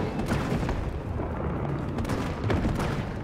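Handgun fire in Resident Evil 3 comes as a quick series of loud, close shots over a dense, rumbling game soundscape, with no clear pauses between the reports.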